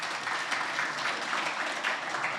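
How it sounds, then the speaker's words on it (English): Applause from a team gathered at an all-team company meeting, a steady patter of clapping at moderate distance, fairly soft and continuous for a couple of seconds. "So shout out to him, guys. Round of applause."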